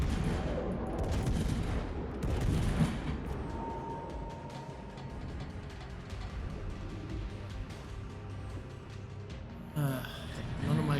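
Naval guns fire from the Annapolis warship in a video game, a dense fusillade of booming shots in bursts over a rumbling background, with a few louder blasts near the end.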